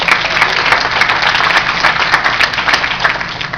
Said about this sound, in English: Y'all give him a loud applause.